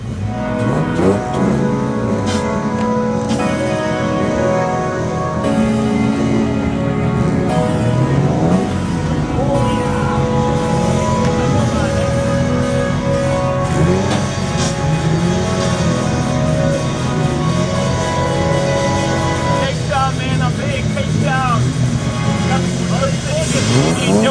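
A 2JZ-engined race car accelerates along a track, its engine note rising and shifting among other cars, under a commentator's continuous talk and crowd noise.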